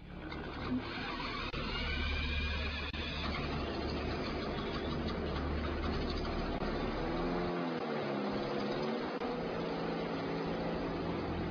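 A car engine runs steadily at close range while an electromagnet is aimed at it, a dense continuous drone with a pulsing low rumble that thins out abruptly near the end.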